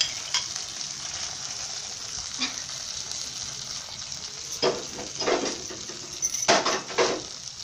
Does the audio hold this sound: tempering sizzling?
yes